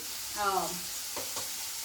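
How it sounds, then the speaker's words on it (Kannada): Fried rice ingredients sizzle in a pan with pepper, cumin and garam masala powders, a short, steady hiss with a brief tonal voice-like sound near the start. "ಇದೆಲ್ಲ ಚೆನ್ನಾಗಿ ಫ್ರೈ ಆಗಲಿ"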